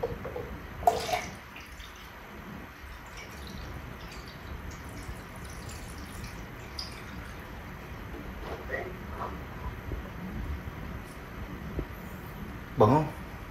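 Faint water pouring and trickling at close range, with a few sharper splashes or clinks standing out near the start and end.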